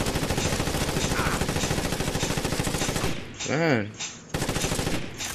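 Rapid automatic gunfire in a video game pours continuously into an enemy, a dense, loud rattling stream that breaks off briefly while someone speaks, then resumes.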